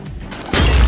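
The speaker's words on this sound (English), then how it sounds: "your gas mask somehow breaks after 10 seconds. This is usually shown by the cracking glass on both sides of your screen and a very obvious sound" Gas mask glass cracks in Roblox Blackout: Revival, a sudden loud shattering burst that starts halfway through after a quiet lead-in and rings on to the end, with no talk.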